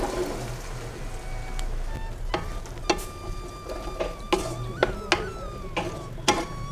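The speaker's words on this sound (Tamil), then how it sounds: "இப்போ இதில் நம்ம வேக வச்சுருக்க கடலையை சேர்த்துலாம்." Cooked chickpeas are stirred into a sizzling pan of softened onion-tomato masala for Kerala-style kadalai curry. A spoon scrapes and clinks against the pan in irregular strokes over a steady close frying hiss.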